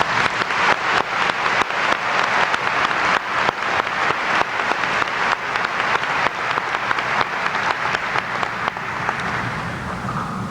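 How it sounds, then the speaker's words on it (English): Sustained, dense applause from a large audience at a Kickapoo High School Class of 1993 graduation ceremony, steady and loud throughout with no talk. "Let's give them a round of applause."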